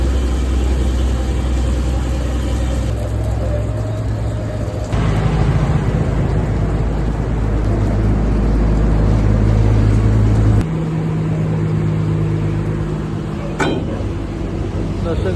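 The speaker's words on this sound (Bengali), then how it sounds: "ট্রলার ঢুকবে" A sand-carrying trawler boat's heavy engine drones steadily and loudly at the Nanupur sluice gate on the Dakatia river, a deep low rumble that shifts in pitch partway through, with a faint voice briefly audible.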